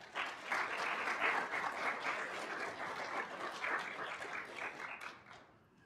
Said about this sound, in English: Please give your family and friends a round of applause.